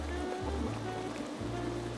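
Mushrooms boiling in water in a pan, a soft continuous bubbling and gentle sizzle with a low steady hum beneath, close and fairly quiet, no voices.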